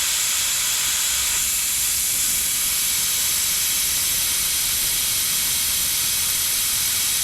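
Steady broad hiss of compressed air flowing into a Tata Safari Storm 4WD tyre during pressurizing, continuous and fairly loud from start to end with no talk.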